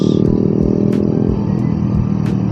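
A Honda Sonic 150R motorcycle engine warms up steadily nearby, a low continuous rumble with a few brief clicks.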